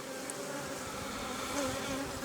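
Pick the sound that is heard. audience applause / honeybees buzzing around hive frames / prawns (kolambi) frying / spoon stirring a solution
honeybees buzzing around hive frames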